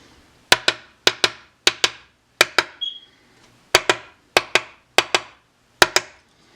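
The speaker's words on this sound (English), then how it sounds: "we're going to use the other mallet they gave us" A mallet taps in quick sharp pairs on a muzzleloader, about eight sets of double knocks with short pauses between, close and crisp against near silence.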